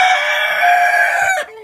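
A rooster in a coop with three hens crows once, loud and close, a sustained strained call that cuts off abruptly near the end.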